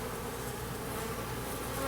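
Honey bees buzz steadily and densely around an open hive during an inspection, a continuous close, even drone of many insects with no talking.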